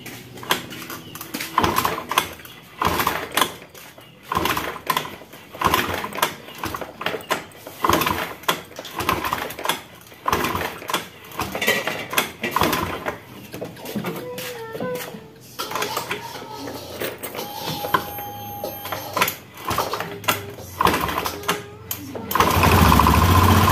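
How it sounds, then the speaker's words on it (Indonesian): A motorcycle engine being kick-started, repeated sputtering cranking bursts close by over many seconds, then a steadier engine note at the end. "Kita engkol-engkol dulu."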